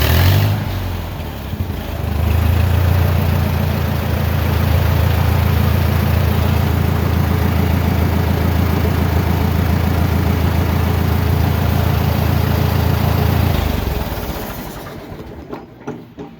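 A heavy Farmall 450 LP tractor engine idles steadily nearby with a low, even rumble and rhythmic clatter, then dies away near the end.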